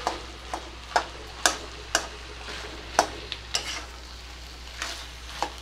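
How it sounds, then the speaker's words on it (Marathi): A spatula presses and mashes potato pieces in a pan while cooking a potato filling for dosa, giving a series of sharp taps and scrapes at an uneven rhythm over a faint steady hum. "बटाट्याचे जर खूप मोठ्या फोडी किंवा असे तुकडे वाटले ना तर थोडंसं कलथ्याने दाबून"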